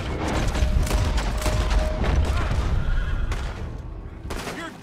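Horse whinnying in the Red Dead Redemption 2 video game, a loud neigh amid dense gunfire and combat noise, with a short tonal cry early on and sharp impacts through the rest.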